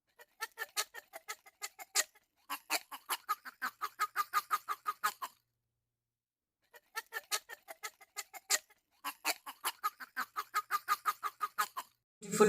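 A duck calls repeatedly in two long runs of rapid, evenly spaced honking quacks with a short pause between bursts, loud and close, with no talking over it.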